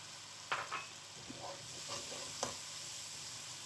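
Green chilies frying in a ghee-rich masala for dhaba-style bhindi masala, a soft steady sizzle with a few light stirring scrapes and clinks, faint and close with no talking.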